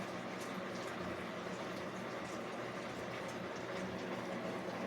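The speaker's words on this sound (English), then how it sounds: "It's boiling." Steady, dense bubbling and rumbling of water at a rolling boil in a pot, continuous and fairly close, with no voices.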